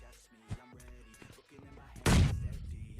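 A sharp, loud grenade blast erupts in PUBG Mobile Lite about two seconds in and rumbles away, after quieter game sounds and scattered noises.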